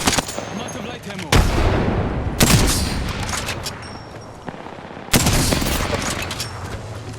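Rapid bursts of automatic gunfire in the video game Apex Legends, loud and close, with sharp onsets around the second, third and fifth seconds and continuous rattling shots in between.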